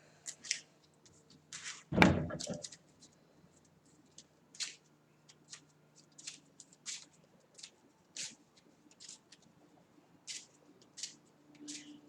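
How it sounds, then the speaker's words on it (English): Marvel Champions cards being shuffled by hand into a deck at a tabletop, giving a string of short, crisp riffling snaps and taps with one louder thump near the start, close and fairly quiet, with no talking. "then we'll shuffle them in the deck"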